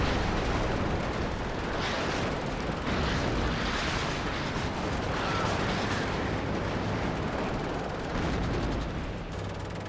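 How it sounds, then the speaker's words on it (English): Rocket artillery from an RM70 multiple launcher fires in a war video game, a continuous dense roar of launches and blasts rolling on for the whole stretch, loud and unbroken with no talking. "But immediately RM70's firing."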